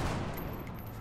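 Gunfire from the turn-based strategy game XCOM Long War, a dense burst of shots filling the whole second with steady, loud crackling and no speech.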